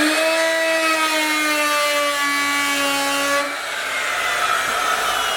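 Wood router spinning up and cutting a pass along a board, a loud steady high-pitched whine that drops in pitch as the cutter bites into the wood and settles into a rougher cutting roar, close and continuous.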